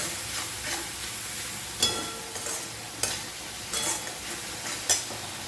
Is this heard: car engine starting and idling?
no